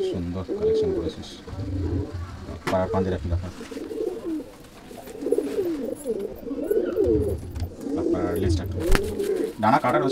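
Domestic pigeons in a loft keep up low, rolling coos in overlapping phrases at close range, nearly continuous over about ten seconds with some handling noise and low rumble.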